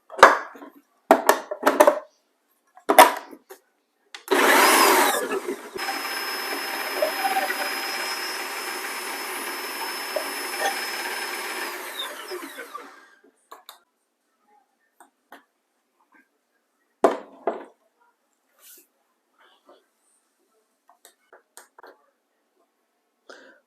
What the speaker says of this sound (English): I'm gonna go ahead and add them to my food processor blender